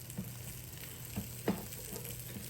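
French toast frying in a Power XL appliance, a steady low sizzle with a persistent hum and a few soft taps and clicks scattered through, close and fairly quiet with no talking.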